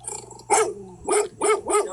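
A puppy barks in a small burst of four sharp yaps, loud and close, with short gaps between them and a low hum running underneath.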